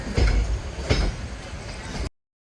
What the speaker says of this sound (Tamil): சென்னை சென்ட்ரலுக்குள்ளே ட்ரெயின் போயிட்டுருக்கு.